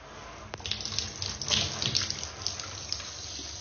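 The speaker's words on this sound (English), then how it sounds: "but we'll put some water on there" Tap water pours steadily onto soapy, lathered hair in a sink, a close, continuous splashing rush with small spatter bursts and no talk.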